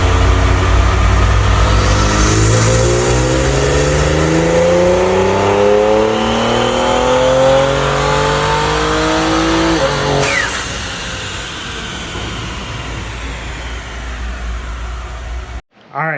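A tuned Ford Explorer ST making over 600 wheel horsepower on E85 with a Nostrum Stage X fuel system revs hard through a dyno pull, engine note climbing steadily for about ten seconds before cutting off, loud and close.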